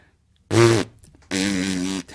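A man imitates a fart with his voice, making two buzzy, close, loud raspberry bursts. The first is short and the second is longer, separated by a brief pause.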